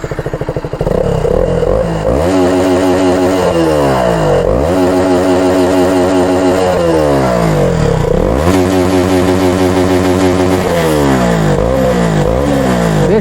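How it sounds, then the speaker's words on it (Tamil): A BS3 KTM Duke 200 motorcycle engine is revved hard several times in succession, each blip sweeping up in pitch and falling back to a rough, clattering idle, loud and close with no talking over it. "ரெவ்வாம் அகைன் போட்டுருவோம்."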